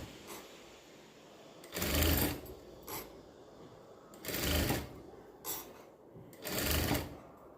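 A sewing machine stitching a blouse back neck design, running in four separate bursts of rapid mechanical whirring and clatter, close and clear, with quiet pauses between runs.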